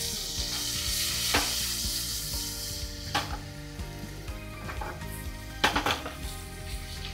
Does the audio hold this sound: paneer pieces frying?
yes